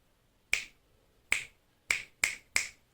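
Five sharp, crisp finger snaps close to an Elgato Wave 3 microphone, spaced unevenly with the last three in quicker succession, alone in a quiet room.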